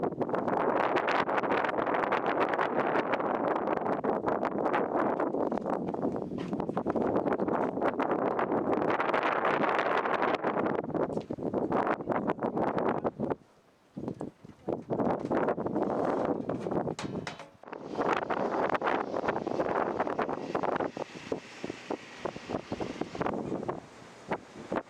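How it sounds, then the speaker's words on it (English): Strong Alaskan wind gusts buffet the microphone in loud, roaring surges, dropping briefly around the middle before blasting again; no one speaks. "It's like 75 mile an hour gusts, 45 miles an hour the rest of the time."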